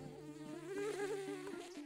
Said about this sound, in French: moustique